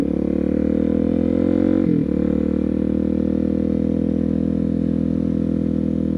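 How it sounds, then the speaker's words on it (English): A small Yamaha TTR 125 dirt bike engine idles steadily nearby. There is a brief dip and stutter near the two-second mark, then the idle continues evenly to the end. "Look at that cute little Yamaha TTR 125."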